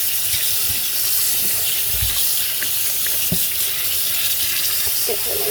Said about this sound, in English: we're really getting her fur rinsed out, and also her belly because I got a lot of soap on her fur and her belly